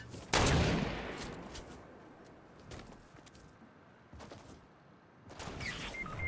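Sniper rifle gunfire in the video game Fortnite. One loud, sharp blast comes early, followed by a few fainter shots spread through the rest of the clip.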